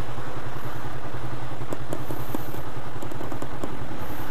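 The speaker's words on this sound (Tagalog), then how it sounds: "Ewan ko kung ito yung motor niya" Motorcycle engine idling outdoors at a vehicle registration office, a steady low rumble with irregular clattering ticks over continuous background noise; no talking.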